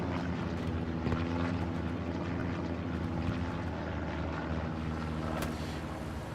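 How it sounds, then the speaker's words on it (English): A recon plane in Hell Let Loose drones overhead, a loud, steady propeller engine hum holding throughout with a slight rise and fall. "Double recon plane goes up on the front line."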